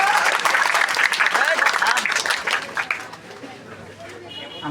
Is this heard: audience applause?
yes